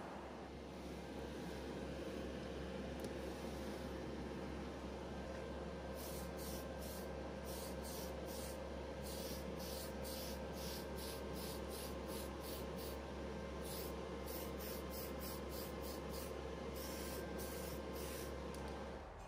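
Spray primer is applied to the roof of a 1:8 scale 1967 Shelby Mustang GT500 Supersnake model body in a spray booth: a soft, steady hiss under a constant booth fan hum, with short bursts of spraying.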